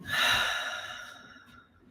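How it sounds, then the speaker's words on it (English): One slow, breathy exhale in a guided relaxation breathing exercise, swelling briefly then tapering off, close and soft with nothing else around it. "and breathing out."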